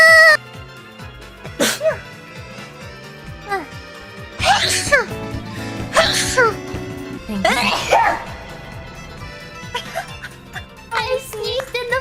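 Several sharp sneezes burst out inside an echo box, each followed by a ringing, metallic reverberation, with exclamations between them.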